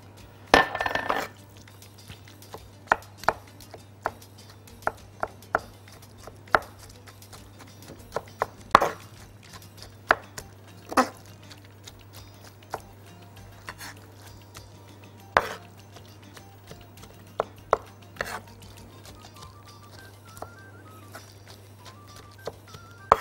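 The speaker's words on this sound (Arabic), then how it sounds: "مش هفرمه فرم ناعم، لا انا هفرمه فرم خشن" A knife coarsely chopping red and green chili peppers on a board makes sparse, sharp knocks, irregularly spaced and fairly close, over a quiet steady hum, with a few clinks of dishes.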